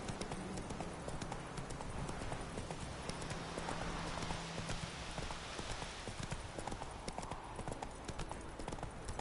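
Roach the horse gallops in The Witcher 3 video game, a quick continuous clip-clop of hooves close and steady over a low background hum for several seconds, with no voices.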